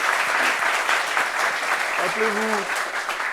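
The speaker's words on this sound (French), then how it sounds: "Applaudissez-vous encore vous-même." A studio audience on a French talk show applauds itself in a dense, steady wash of clapping, with a short sung or musical note rising partway through.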